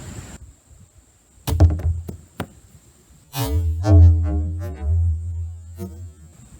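Homemade sickle cutting into a squash: a few sharp close thunks and chops, followed by a heavier resonant impact with a brief ringing tail, no voices.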